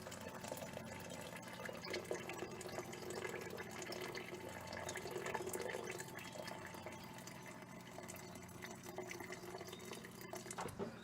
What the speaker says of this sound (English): I'm going to put the hot water in.